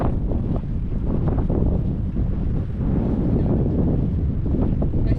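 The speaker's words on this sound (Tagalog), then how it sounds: "Yan sobrang mahangin." Strong wind buffets the microphone at a mountain farm in Bakun, Benguet, in a loud, continuous low roar with gusty surges and no clear voices.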